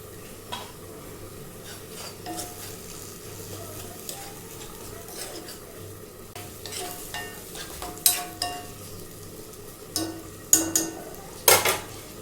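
Nigella seeds and peas frying in a pan are stirred with a utensil, giving a soft low sizzle under intermittent scraping that grows into sharper, louder clatters toward the end, with no voices.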